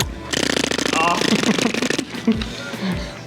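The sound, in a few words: tongue flapping trick done with the mouth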